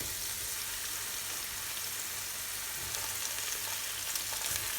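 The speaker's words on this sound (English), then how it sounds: "And then I'm going to add the tomatoes." Tomatoes sizzling in a hot pan while cooking chicken pilau, a steady, close frying hiss with faint crackles throughout, no talk.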